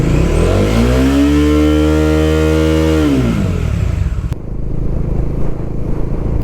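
A motorcycle engine revs loud and close, its pitch climbing and holding before dropping off, then a rough idle and pull-away rumble as riders leave the Hornbill Festival grounds.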